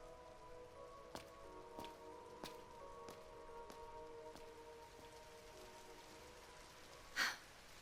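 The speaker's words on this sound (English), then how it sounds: "Why'd it have to rain?" Soft, steady rain in the video game Trails Through Daybreak, a quiet continuous patter with a few faint drops and a brief louder splash near the end, with no voices.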